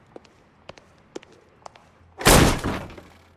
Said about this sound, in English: Don't bother knocking, just kick the door in.